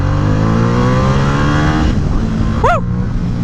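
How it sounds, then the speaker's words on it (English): Motorcycle engine revving and accelerating on an open road, loud and steady for most of the clip, with the engine note dropping away near the end; no talking. "Oh, the torque on this bike, baby, amazing."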